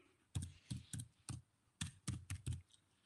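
One-finger typing on a computer keyboard: sparse, irregular single key taps, about nine in total, close and clear over a quiet background.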